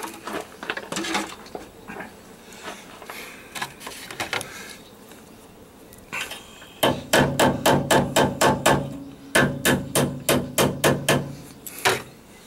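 Irregular knocks at first, then a fast steady series of sharp hammer blows on metal front-end parts of a Ford F-150 pickup, ringing in two bursts.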